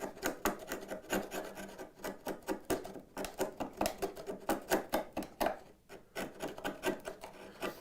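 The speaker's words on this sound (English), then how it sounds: "Setting the chisel in here to see if there's a high spot." A hand chisel pares a wood bridle joint, checking for a high spot, giving close, quiet scraping strokes in a quick uneven rhythm with short pauses, and no voices.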